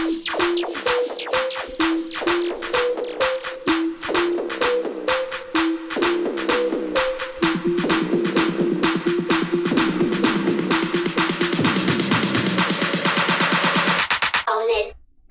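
An electronic music track builds up, with rapid repeated synth hits and percussive stabs that grow denser, then give way to a sustained, louder wash before cutting off near the end; this second build runs longer than the first.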